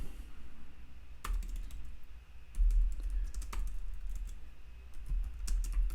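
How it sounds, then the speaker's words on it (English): Fingers tap out a short phrase on a computer keyboard, sparse crisp key clicks in small irregular bursts over a quiet room hum, with no talk. "gonna type something completely random"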